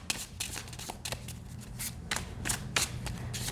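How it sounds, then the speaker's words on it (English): A new tarot deck riffled and shuffled by hand up close, with repeated quick papery bursts of sliding cards at an uneven rhythm over a low steady hum. "So let's start shuffling this way."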